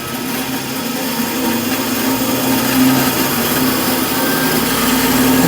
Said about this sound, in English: Reapply the power, turn the saw on, and you'll see that we're already higher